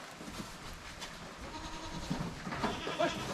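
Faint Aleppo goat bleats on a dairy farm over a quiet outdoor background, a few short calls growing slightly louder toward the end.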